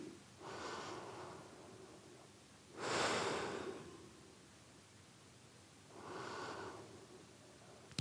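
Three slow breaths drawn during a yoga pose in a heart-opening class, airy and soft, with a longer, louder exhale in the middle and quieter breaths before and after.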